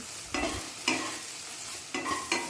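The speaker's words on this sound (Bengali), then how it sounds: "ভালো করে সব কিছু মিক্স করে নিয়ে আরও দু থেকে তিন মিনিট ধরে ঢ্যাঁড়সগুলোকে ভেজে নিচ্ছি" Sliced okra with salt and turmeric sizzles gently in a pan while a spatula scrapes and stirs it in four distinct strokes, each stroke bringing a brief rise in the frying noise.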